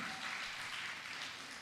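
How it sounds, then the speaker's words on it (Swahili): Dense, steady clapping from a crowd at a Sunday school conference, a continuous wash of applause held at an even level for the short span, with no voices standing out. "Mmempigia makofi."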